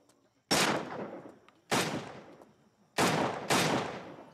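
Four sharp, loud gunshots ring out in a scene from the crime series Mirzapur, spaced unevenly with the last two close together, each followed by a short decaying echo over near silence.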